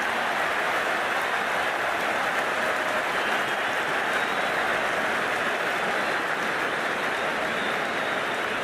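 A large crowd at a cricket stadium during a T20 match cheers and roars, with no break, for several seconds, keeping up a broad, dense wash of noise that stays at one level throughout.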